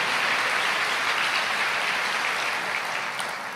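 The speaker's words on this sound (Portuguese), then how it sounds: "pode aplaudir" A congregation at a church sermon applauds loudly and continuously, with a thick wash of clapping from many hands that stays even throughout.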